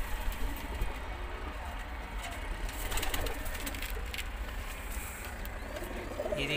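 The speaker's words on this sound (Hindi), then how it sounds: "ये सारे कबूतर मैं आपको एक एक करके दिखा रहा हूँ" Pigeons coo softly amid a busy, noisy background, with faint rustling and continuous low rumble throughout; no one speaks.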